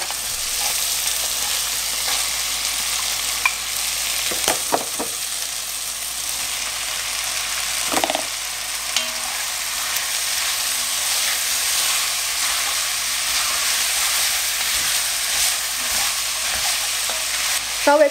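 Chicken pieces with potatoes and carrots stir-frying in hot oil, giving a continuous loud sizzle and hiss broken by occasional scraping stir strokes, with no voices.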